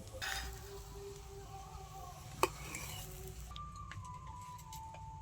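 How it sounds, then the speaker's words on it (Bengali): Stuffed sweet potato parathas fry in a pan, giving a soft, steady low sizzle with light scraping and a single sharp clink of utensil on pan midway, no talking. "এই পরোটাটা খুব ভালো করে ভেজে নিয়েছি, এবার তুলে নেব।"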